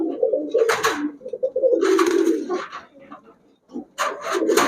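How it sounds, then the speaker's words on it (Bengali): High flyer giribaz pigeons coo at close range in a shop, with repeated throaty bursts that overlap and have short gaps, along with light rubbing and rustling sounds. "এটাও ক্লাবের কবুতর হাই ফ্লায়ার কবুতর"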